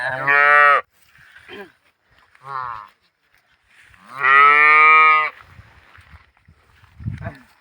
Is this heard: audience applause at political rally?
no